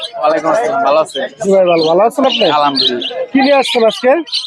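Green parrots at the Hemayetpur bird market squawk and chirp loudly and almost continuously nearby, harsh voice-like calls following one another with brief gaps.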